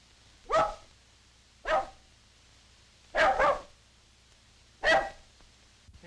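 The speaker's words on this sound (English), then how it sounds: "There's that bark again." A dog barks in an old 1929 film soundtrack: four single, fairly loud barks spaced about a second apart, the third a quick double, over a quiet hissy background with no talking.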